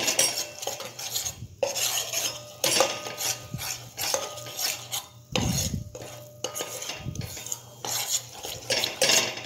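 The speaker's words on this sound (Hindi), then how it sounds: "ऐसे हम इसे चलाते रहेंगे जैसे हम हलवे चलाते हैं धीरे धीरे" Flour (maida) stirred in a pan over a low flame for pizza white sauce, a spoon scraping and clinking against the metal in an uneven, continuous rhythm with a low steady hum beneath, close and without speech.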